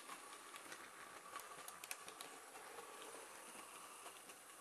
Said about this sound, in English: Let's get the camera to roll alongside the locomotive as she's running.